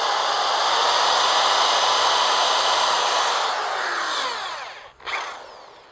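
Power drill boring holes through wooden pallet boards, a loud steady whine for several seconds that slows and drops away near the end, with a brief restart after a short gap.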